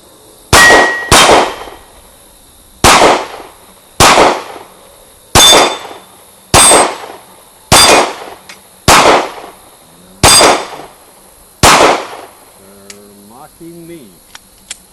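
An FMK C1 pistol fires about ten shots at steel targets, each a sharp loud crack with a ringing metallic clang, spaced at fairly even intervals of roughly a second or more.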